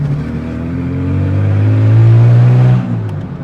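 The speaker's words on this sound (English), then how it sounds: "Oh, the downshift pops." Ford Falcon fitted with a Redback exhaust revving hard, a loud close engine note climbing and holding at a high pitch before it drops off, followed by faint pops on the downshift.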